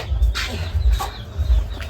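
Village chickens clucking close by in a short burst of several calls at a rural home, with low rumbling background noise and no talking.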